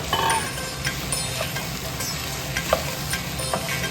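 Onions sizzle in a pan for an onion and potato curry while a spoon stirs them, with steady frying hiss and a few soft scraping clicks throughout.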